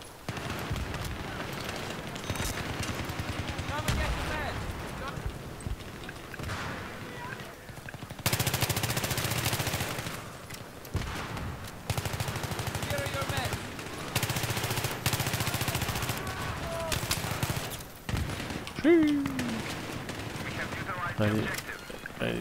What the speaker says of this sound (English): This gun has a good fire rate, but it's not really the most efficient